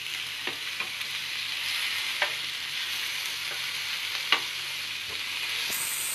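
Chicken and pineapple skewers sizzling on a grill over a medium flame, a steady hissing fry with a few soft clicks, no talking.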